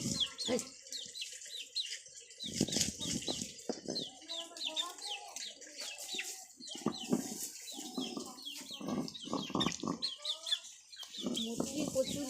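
Chickens around a village house cluck and chatter in irregular bursts, with rustling and wing flaps, moderately close; a person's voice is faintly audible in the background.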